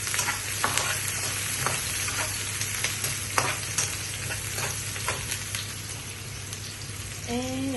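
Onions for sarciadong bangus fry and sizzle steadily in a pan, a loud continuous crackle broken by occasional stirring scrapes, with a voice speaking briefly at the end.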